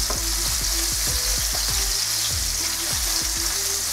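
Flour-coated chicken thighs fry in a pan with a dense, steady sizzle, punctuated by repeated short squeaky scrapes of a utensil against the pan, close and continuous, with no talking.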